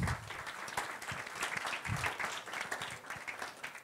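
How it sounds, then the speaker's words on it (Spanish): Applause from an audience following a dental implant presentation, a fairly dense burst of clapping from many hands that holds steady for a few seconds, close and moderately loud. "muchas gracias, un aplauso."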